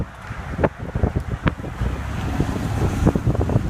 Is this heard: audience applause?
no